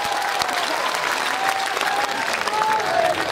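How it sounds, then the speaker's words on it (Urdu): Audience at a poetry recital claps heartily, a close, steady burst of applause lasting a few seconds with a faint voice beneath it. "دونوں ہاتھ کھڑے کر کے زوردار تالیاں بجا کر مجھے حکم دیں"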